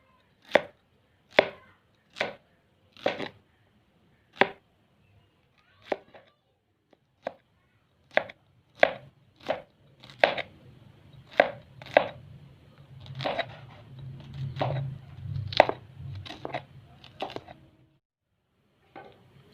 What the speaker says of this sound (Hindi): तो दोस्तों, प्याज हम काट चुके हैं